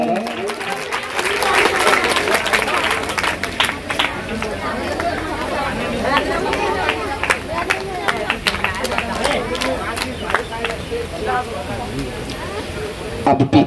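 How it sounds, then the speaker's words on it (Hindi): Applause and crowd noise at a welcome ceremony for a chairman in a village, a dense, steady patter of clapping running throughout with chatter and voices mixed in. "कोई बात नहीं, तालियां तो बजा दिया करो।"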